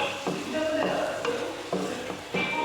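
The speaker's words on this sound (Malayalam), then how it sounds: "ഇനി ഇത് നമുക്കൊന്ന് നന്നായിട്ട് ഇളക്കി കൊടുത്ത് എല്ലാം കൂടെ ഒന്ന് യോജിച്ചെടുക്കണം." Curry being stirred in a pan, the spoon scraping and clanking against the metal in several distinct strokes over a continuous sizzle, close and fairly loud; no one talks.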